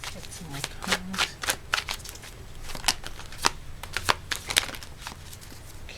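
A tarot card deck is shuffled by hand during a reading, giving repeated crisp riffling bursts in an uneven rhythm, close and fairly quiet, with a voice speaking intermittently between them.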